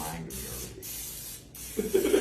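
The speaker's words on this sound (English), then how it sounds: "So then we're gonna spray the parchment." Cooking spray hisses onto parchment paper lining a baking pan for a pumpkin roll, in three short bursts close by, with a voice speaking briefly near the end.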